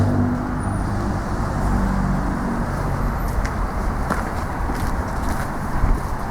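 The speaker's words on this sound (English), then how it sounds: "There's a lot of traffic." Road traffic passing near an abandoned church, a steady low rumble of vehicles with a few brief louder passes, moderately close and continuous.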